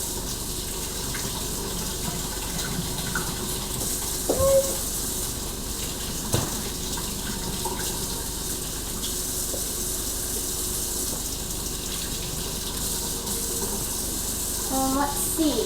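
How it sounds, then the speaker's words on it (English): Tap water runs steadily into a sink while eggs are washed, a continuous close splashing hiss with a few clinks and knocks, and no one speaks over it. "while I'm washing these eggs"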